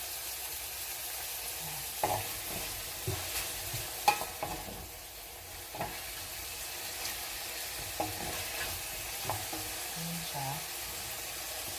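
Bihon rice noodles stir-fried in a pan at home, with a steady low sizzle and scraping stir strokes of the utensil recurring every second or two.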